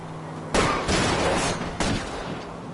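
Gunfire erupts during a car chase in the video game L.A. Noire, with two loud bursts of shots about a second apart over a steady background rumble, no talking.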